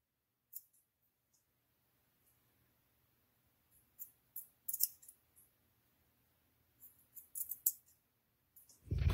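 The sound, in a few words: scissors cutting slits in lace strip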